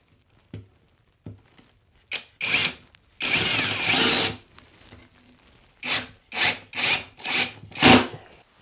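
Wood screws driven into reinforcing wood with a power drill, several short bursts of whirring and grinding, each lasting under a second to a few seconds with gaps between, close and fairly loud with no talk.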